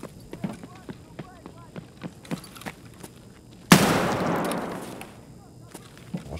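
In the shooter game Escape From Tarkov, a single loud gunshot blasts out and decays into a long rumbling tail, following a run of quick footsteps; a voice talks faintly in the background.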